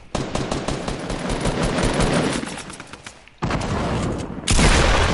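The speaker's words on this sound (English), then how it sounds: "I hit him with a shotgun" Rapid gunshots in a Fortnite-style duos match crackle close and loud in a long volley, break off briefly, then a sharp, heavy shotgun-like blast sounds near the end.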